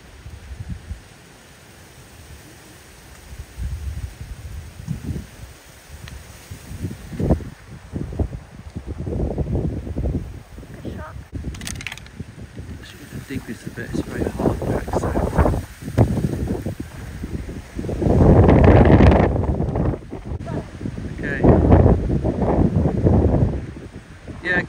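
Gusty wind buffets the microphone on a golf course, rising and falling in strong rushing surges over about 25 seconds, with people talking in between.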